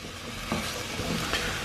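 A steady sizzling hiss of onion and courgette steam frying in a pan with a little water, with a few soft stirring clicks and bumps over the continuous crackle.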